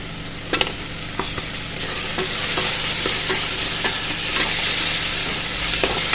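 Onion, tomato, ginger and garlic frying in a pan give a loud, continuous sizzle up close, with regular scraping taps from a spoon stirring throughout.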